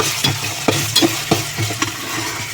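Ginger-garlic paste frying in a pan for chicken curry while being stirred: a steady close sizzle broken by several sharp scraping spoon strokes, with no talking.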